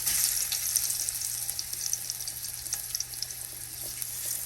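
Seasoned shrimp frying in olive oil in a pan, giving a steady, close, moderately loud sizzle with faint crackles throughout, with no voices.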